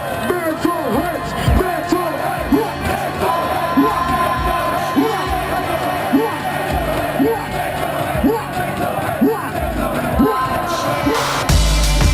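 A big crowd at a drum and bass festival cheers, whoops and yells throughout, a dense roar of many voices with shouts rising over it.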